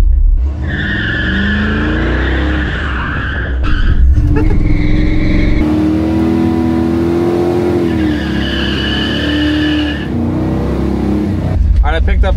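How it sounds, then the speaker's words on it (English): A Squarebody street truck with new 3.73 gears and posi peels out on its line lock, tires squealing loudly in long sustained screeches over a roaring engine, with voices talking over it. "T intersection, we gotta be able to peel out."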